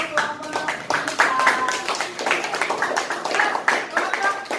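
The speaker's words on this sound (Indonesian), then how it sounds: "tepuk tangan untuk kelompok kita" A classroom of students gives a group a short burst of applause, scattered hand claps mixed with lively chatter and voices throughout.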